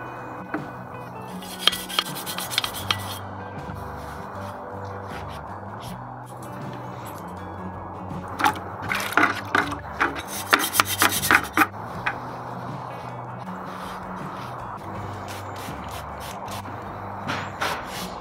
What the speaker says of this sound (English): we do have this steel wire brush, which I can't imagine that's any different. It still gets the gunk off.